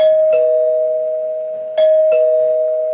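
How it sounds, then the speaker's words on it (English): A two-tone doorbell chime rings twice, clear and close, each ding-dong leaving a long sustained tone ringing between strikes, with no voices. "someone rang the doorbell again"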